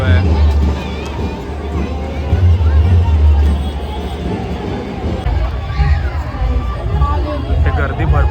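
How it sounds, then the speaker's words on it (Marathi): Busy crowd hubbub at the Lalbaug food festival, where children's rides and a toy train run, with continuous overlapping chatter and background bustle throughout. "ते गर्दी भरपूर आहे असं तुम्ही बघू शकता"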